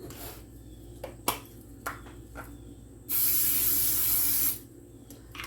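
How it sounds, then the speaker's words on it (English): Cooking oil spray hisses steadily onto a pan for about a second and a half, loud and close, between a few light clicks and knocks. "I'm also going to give the pan a light spray"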